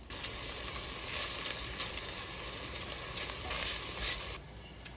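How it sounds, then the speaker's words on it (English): Bacon sizzles steadily in a pan, a constant close crackle with occasional louder pops, quieting near the end, with no voices. "While your bacon is frying"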